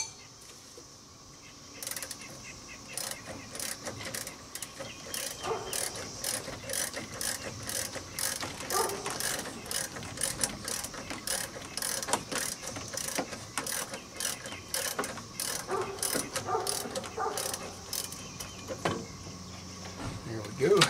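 A ratchet wrench works loose the harmonic balancer bolt on a 1999 Chevy 5.7 L engine, giving rapid, repeated clicking bursts at close range over a quiet workshop background, with a voice talking at times.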